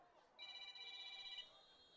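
A phone rings during a high school football broadcast, a faint electronic ring with a steady trill lasting about a second, sounding over quiet background noise.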